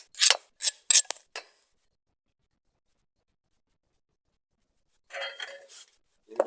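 A spatula scrapes and clatters in a pan as vermicelli roasts with dry dates, a few quick scratchy strokes, then a long silence and another short burst of stirring.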